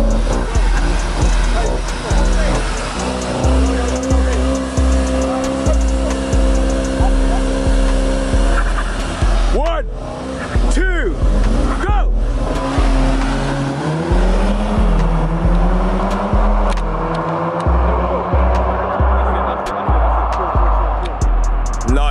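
Volkswagen Golf R cars drag racing, loud engines revving and roaring close by, with rising whines through the gears and brief drops between shifts, running continuously for the whole stretch.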